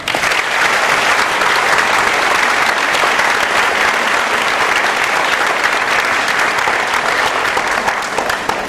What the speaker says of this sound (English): please join me in a big round of welcome applause for Congresswoman Clark